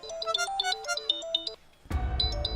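A mobile phone rings with a bright electronic melody that stops briefly, then starts again over a sudden burst of louder background noise.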